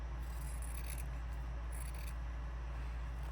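Scissors snip through vintage fabric in two short, bright, crisp cuts, heard close over a steady low background hum, with no talking.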